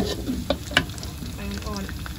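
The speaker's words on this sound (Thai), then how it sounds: "ผัดน้ำมันหอยจะติดแต่พริกน้ำนิดหน่อยด้วยจ้ะ เห็ดลงไปเลย" Oily sizzling and crackling of mushrooms stir-frying in oyster sauce in a pan, with a couple of sharp spatula clinks near the start, close and steady.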